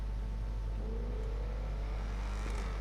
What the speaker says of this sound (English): You just drive slow and you still hear the thing crackling. Like a firecracker in the back.